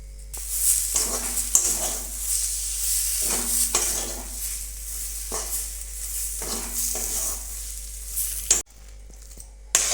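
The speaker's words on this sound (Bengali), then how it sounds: "এবার আমি ধনেপাতা দিয়ে, অল্প দুটো ধনেপাতা দিয়ে এটা মেখে নেব।" Kebab mixture being stirred and mixed with coriander leaves in a pan with the gas off, a spatula scraping in repeated strokes with soft residual sizzle and clinks of metal on the pan.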